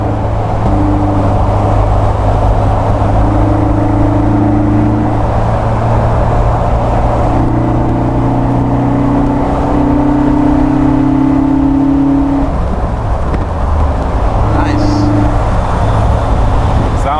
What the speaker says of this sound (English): Beautiful with those dual side draft carbs. It just sucks in that air.